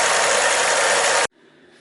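A Ford Zetec car engine idles as a loud, steady broadband drone that cuts off abruptly after about a second and a quarter, leaving only faint background noise.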